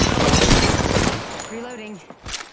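Gunfire in Apex Legends, a dense burst of rapid shots for about a second that then breaks off into quieter game noise, with speech-like sounds mixed in.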